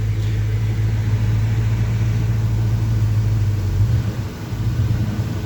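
A 1975 Chevy C10 pickup truck engine idles after a cold start, giving a loud, steady, close-up rumble throughout with a brief dip in level toward the end.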